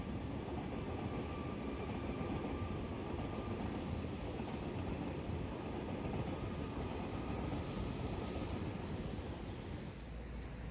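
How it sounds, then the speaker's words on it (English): A Sydney Metro Waratah train runs along the newly opened northbound track at the Chatswood dive site, a steady, loud rolling rumble with broad rushing noise that holds for the whole stretch and eases slightly at the end. "here's a Waratah train travelling on the new northbound track"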